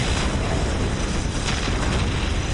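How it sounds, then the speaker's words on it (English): Ork Squiggoth firing its big cannons in the strategy game Dawn of War Soulstorm, heard as a dense, continuous roar of booming battle explosions that stays loud and steady throughout, with no talk. "Still firing away with all its big zappy cannons."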